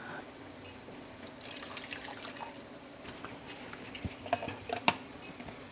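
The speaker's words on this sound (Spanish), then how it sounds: "Y le vamos a agregar una poquita de agua." A little water goes into a blender jar holding tomato, onion and garlic, giving a faint trickle and a few light drips over a steady background hum.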